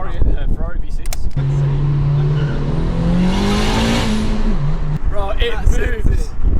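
A Ferrari V6 car accelerating hard, its engine note climbing steadily and loud, with people talking excitedly before and after the run.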